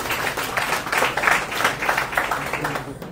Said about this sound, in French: Applaudissements également.